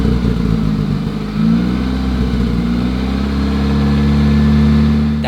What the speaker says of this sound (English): Empty out the entire can, and then the engine might stutter a couple times